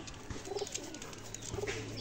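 Close, soft cooing from teddy pigeons in two short bursts, with steady low hiss between them.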